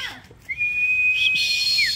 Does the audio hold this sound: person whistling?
yes